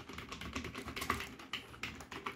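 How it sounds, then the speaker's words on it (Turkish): Rapid, uneven clicking of keys on a computer keyboard, close and fairly quiet, with no talking. "Klavye çalışıyor mu? Çalışıyor."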